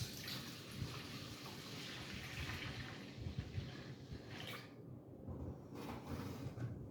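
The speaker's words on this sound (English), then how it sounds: "I'm going to pour it in this stainless steel bowl." Sanitizer poured into a stainless steel bowl while preparing to make holiday cider, a steady rushing, splashing flow of liquid that tapers off near the end.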